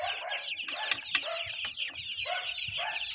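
Week-old broiler chicks in a backyard farm peep and cluck continuously in a busy chorus, close by, with a couple of sharp louder calls standing out.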